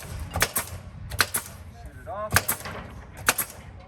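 A fastener gun tacks house wrap paper onto a house wall, giving several sharp, close snaps spaced about a second apart over a background of faint voices.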